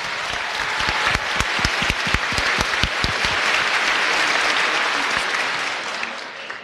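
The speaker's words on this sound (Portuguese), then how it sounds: "Vamos dar uma linda salva de palmas para Jesus Cristo" A church audience applauds Jesus Christ, with loud, dense clapping that builds with a few sharp individual claps, then fades out over several seconds.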